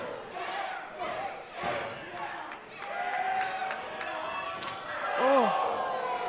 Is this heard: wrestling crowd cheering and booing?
yes